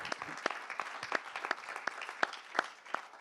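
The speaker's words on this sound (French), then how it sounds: "Et vous pouvez l'applaudir." A modest audience claps at a corporate insurance hackathon event, with individual claps standing out as a loose, uneven patter rather than a dense roar, moderately close.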